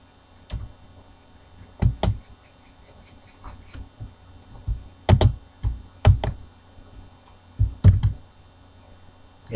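Keystrokes on a computer keyboard while data is entered into a Microsoft Excel spreadsheet, heard as scattered clicks and short bursts of taps, fairly close and moderately loud, with no talking.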